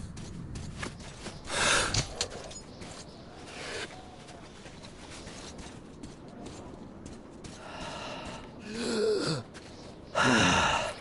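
Video game character in Metro breathing through a gas mask, several harsh, hissing inhales and exhales spaced a few seconds apart, muffled and close, with quiet background rustle between breaths.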